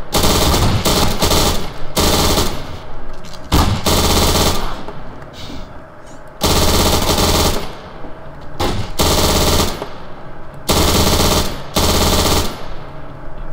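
Sustained bursts of automatic machine gun fire in the video game Garry's Mod, loud and close, in several long volleys separated by brief gaps with quieter firing between them.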